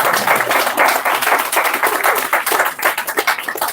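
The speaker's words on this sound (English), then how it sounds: "Why the claps are?" Audience clapping during a talk at ISKCON Gachibowli, a loud, close burst of many hands applauding in a fast patter that continues throughout before tapering slightly at the end.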